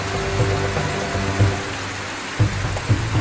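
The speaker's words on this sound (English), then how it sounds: "the fact that it's raining so hard at the moment." Heavy rain falls beside a koi pond with a rock waterfall, a steady dense hiss of water with a few soft splashy pulses, fairly close and without talking.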